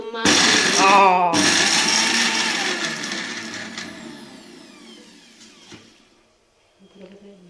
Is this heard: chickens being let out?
no